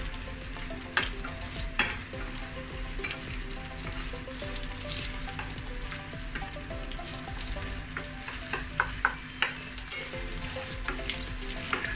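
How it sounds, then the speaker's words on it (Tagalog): Onion and garlic frying in a pan while being stirred, a steady close sizzle with scattered scraping clicks from the utensil, continuous and moderately quiet. "Haluin lang po natin ng konti."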